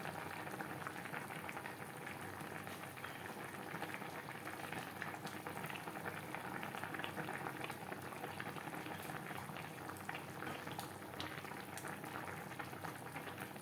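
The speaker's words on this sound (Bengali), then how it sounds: "গ্রেভির সাথে মাছ আরও 3-4 মিনিট রান্না করব" Hilsa fish and eggplant curry simmers steadily in its gravy, a continuous soft bubbling and boiling hiss that holds even and unbroken throughout, close up and fairly quiet, with no voices.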